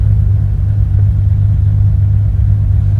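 A 1982 Ferrari 400i with a V12 engine and five-speed manual rumbles loud and close, holding a deep, steady engine note with no talk.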